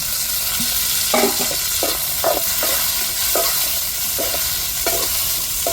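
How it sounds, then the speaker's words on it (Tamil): Onions and tomatoes sauté in a pan with a loud, continuous sizzle, while repeated scraping strokes of a spatula sound about once a second over the frying. "தக்காளி நல்லா வதங்கட்டுங்க"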